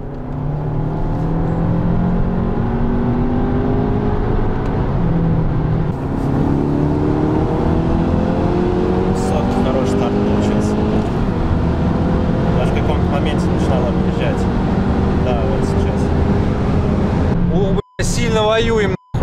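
Street race between cars such as a Skoda Superb 2.0T, BMW M5 E60, Lada Priora and BMW E39 525, a loud engine climbing steadily in pitch through a long pull in one gear, with a voice talking over it.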